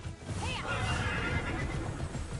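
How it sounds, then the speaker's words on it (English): Horse ridden in the video game Immortals Fenyx Rising, a clear neigh and whinny with a faint metallic ring over a steady rumble of hooves, fairly close with no talk. "it sounds like I'm riding a metal horse"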